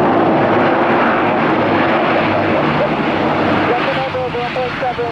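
A fixed-wing airplane passes loud and close near Tampa airport on arrival, its engine roar dominating with heavy wind buffeting, fading slightly toward the end as a faint tonal whine emerges.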